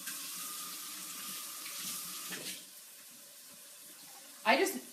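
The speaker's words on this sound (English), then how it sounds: "let me rinse my hands really quick." A kitchen tap runs steadily while hands are rinsed during sausage and leek soup prep, a soft close hiss and splash that eases off midway before a brief louder burst of water at the end.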